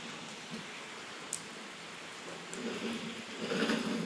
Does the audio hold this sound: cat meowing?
no